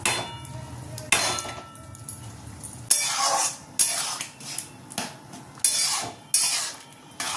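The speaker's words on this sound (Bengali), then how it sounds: "ডালটা ফুটে গেছে, এবার এর মধ্যে দিয়ে দেবো পনির ভেজে রেখেছিলাম সেটা।" Fried paneer pieces tipped into a pot of simmering dal tarka, giving a series of sharp metallic clinks and scrapes of a spoon against the pot at a steady, irregular pace, close and fairly loud with no talking.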